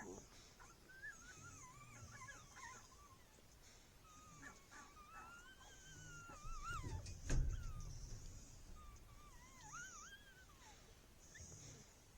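A newborn puppy, born the day before, cries in thin, high, wavering whimpers and squeals that come in short repeated bursts, faint and close, while a person talks quietly nearby.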